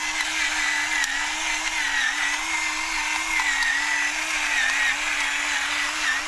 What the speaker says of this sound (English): I love this piece of equipment here. It grinds by gravity.